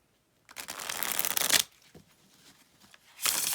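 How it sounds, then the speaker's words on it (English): Tarot cards being shuffled close up, a long riffling burst followed by quieter handling, then another quick shuffle. "So this is 100 card, shuffle, beautiful."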